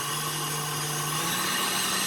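An electric mixer running on high while whipping macaron batter, a steady continuous motor whine with a constant hum throughout, close and loud with no talking.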